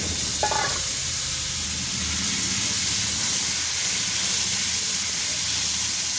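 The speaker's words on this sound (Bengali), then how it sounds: "আলুটা একটু ভেজে নিই" Washed potato frying in hot oil with black cumin seeds, a dried red chili and a bay leaf, giving a steady loud hiss that fills the whole stretch, with one brief clink near the start.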